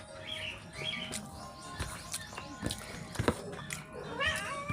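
Several cats at feeding time give a few soft, close meows among light clattering and shuffling noises in a home setting, with no talking over them.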